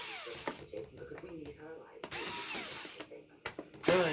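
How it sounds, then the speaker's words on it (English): An electric hand driver undoes screws on a Bissell PowerForce Compact vacuum. Short, close whirring bursts are broken up by clicks and handling noise, and a voice speaks between the runs. "I'm going to do these screws here with my electric hand driver."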